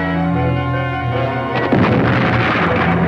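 A single deep boom of a film explosion cuts in abruptly after a sustained tonal musical bed, then rumbles and crackles loudly to the end of the clip.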